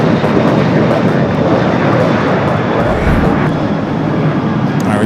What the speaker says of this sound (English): we just had Air France touching down here on the south